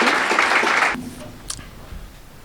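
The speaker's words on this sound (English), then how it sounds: "Round of applause for Michael coming up." Audience applause at an open mic for veterans rings out loudly for about a second, then stops abruptly, leaving a quiet room with light shuffling and a brief clatter.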